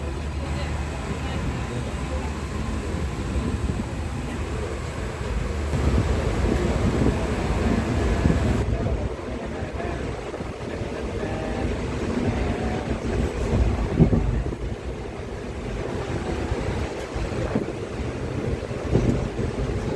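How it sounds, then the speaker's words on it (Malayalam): The Mangaluru Central Express rolls along with a steady, low rumble throughout, rising slightly at times, with faint voices in the background. "മംഗളൂരു സെൻട്രൽ എക്സ്പ്രസ്സിലാണ് യാത്ര"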